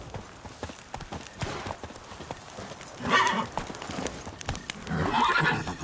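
Horse hooves clip-clop steadily in the Witcher 3 video game, with a few louder bursts and an occasional whinny over a busy background.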